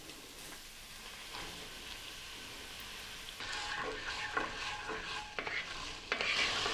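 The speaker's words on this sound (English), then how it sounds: "When your oil is hot, go ahead and add in your carrots, celery, and your onion." Chopped carrots, celery and onion hit hot oil in a soup pot, setting off a steady loud sizzle that swells when the vegetables go in, with close stirring scrapes on top.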